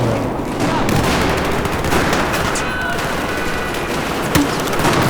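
Battlefield 4 multiplayer fight in a city under heavy bombardment: dense, continuous rifle and machine-gun fire with sharp cracks and blasts, loud and close, filling the whole stretch.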